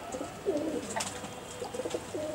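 Pigeons in a loft of about thirty-two birds of mixed breeds, including Saharanpuri crested and yellow pigeons, give soft, low, rolling coos, a few overlapping calls repeating close by over a quiet background.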